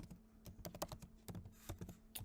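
Typing on a computer keyboard, a quick irregular run of close, crisp key clicks and taps, fairly quiet, without talk.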